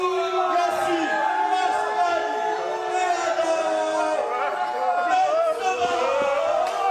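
A wrestling arena crowd boos during an HCP Tag Team Championship match: a loud, sustained wall of voices with rising and falling jeers and shouts, continuous and close throughout.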